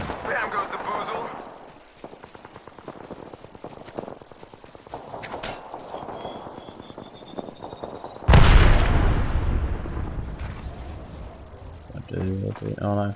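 Grenades go off in the Apex Legends video game, with a sharp loud blast and a long rumbling boom amid scattered gunfire and clatter, while a player talks excitedly over the action.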